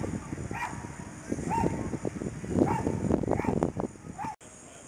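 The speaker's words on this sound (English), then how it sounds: "And barking dogs too." Dogs bark and yip in the distance outdoors at old Fort Howard in Maryland, a scattered run of short barks and whimpers over wind and background hiss.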